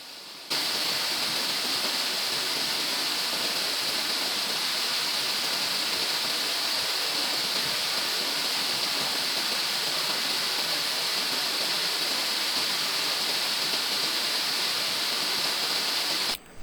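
The constant roar of Vayalada waterfall in Kozhikode fills the whole stretch, a dense, even hiss of falling water heard up close.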